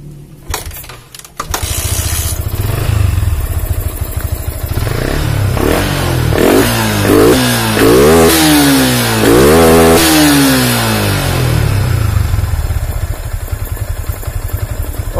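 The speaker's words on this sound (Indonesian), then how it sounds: "di sini sudah hidup motornya ya" A Yamaha Vixion New motorcycle engine idles after being coaxed back to life, then revs up in several rising and falling bursts before settling back to a steady, loud idle.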